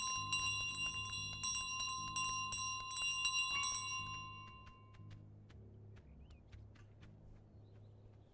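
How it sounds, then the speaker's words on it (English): Repeated bright bell rings from Untitled Goose Game, several quick clanging strikes over the first four seconds that then fade into a quieter ambient game background with occasional soft tones. "I knew you couldn't do anything about the bell."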